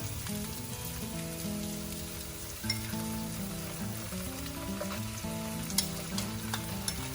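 Instant curry paste, about 100 grams, frying over a low flame in a pan for Indonesian-style fish curry: a steady, dense sizzle with faint crackles and a few sharper pops, continuous and close with no talking.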